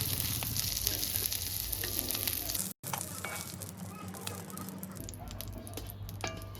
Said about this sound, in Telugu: చూడండి ఉల్లిగడ్డ కూడా మంచిగా ఫ్రై అయింది